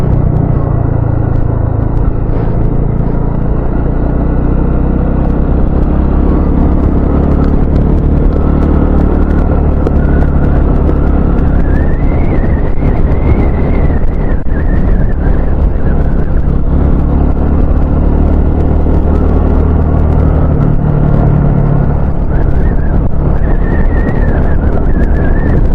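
A Kawasaki KPX dirt bike engine drones steadily while riding up a high ridge, its pitch rising and falling as the throttle changes, sustained and fairly close throughout with no talk.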